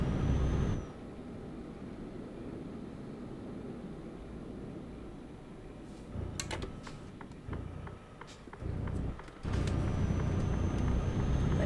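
A Mercedes-Benz Actros lorry in Euro Truck Simulator 2 drones with a steady, heavy engine rumble through a residential area, broken by gear shifts and sharp hissing bursts, with no talk.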